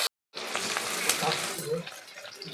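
Chopped onion and bay leaves frying in hot oil for a rohu fish curry, a steady close sizzle with scraping stir strokes running continuously after a brief silent gap at the start.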